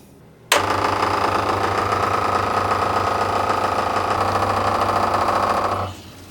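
A diesel heater fuel pump priming: a steady mechanical buzzing and rattling starts abruptly, holds constant with a low hum beneath, then cuts off after about five seconds, close and loud.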